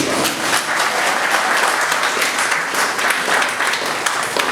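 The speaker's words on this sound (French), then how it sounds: "je demande quand même à la foule de vous applaudir" A crowd at a civil wedding ceremony applauding steadily, a dense wash of many hands clapping at once, loud and sustained throughout.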